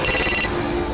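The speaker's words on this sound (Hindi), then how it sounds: "निकिता का फोन लगातार बजे ही जा रहा था" A mobile phone rings in a quick, bright electronic warble that pulses several times in under half a second and then cuts off abruptly, leaving faint room hum.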